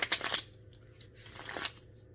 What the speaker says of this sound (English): I got my trusty thoth out, okay? And I just want to shuffle.